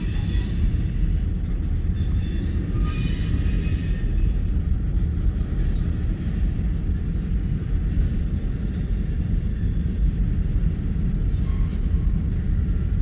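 A freight train rolls past at close range near Fremont, Nebraska, a steady, loud rumble of rail cars and wheels on track that holds unbroken through the whole stretch, with faint squeals and clacks on top.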